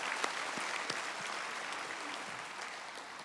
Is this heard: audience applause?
yes